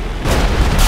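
Warship guns fire with a heavy, roaring explosion in a GTA 5 World War II mod naval battle, a loud, dense blast that fills the whole moment without any talk.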